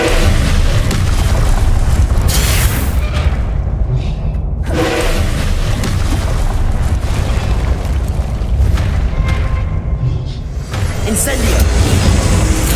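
Loud, continuous booming blasts from the Confringo spell in Hogwarts Legacy, deep explosive rumbles with a couple of brief lulls between bursts, dense and close throughout.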